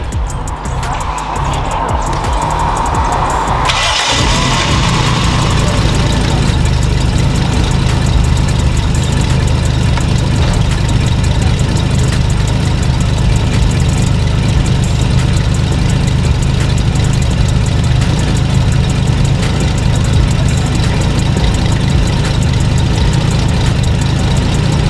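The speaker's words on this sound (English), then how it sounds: "So the car idling nicely" A car engine idles steadily and evenly with a low, continuous rumble that carries on for the whole stretch. There is a brief burst of rougher noise and a voice at the very start.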